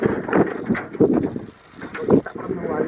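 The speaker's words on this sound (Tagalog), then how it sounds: "lumilipad talaga ang hangin dito" Wind gusts blow hard across an outdoor spot, buffeting the microphone in uneven rumbling bursts that swell and drop over a few seconds, close and fairly loud, with no clear talk.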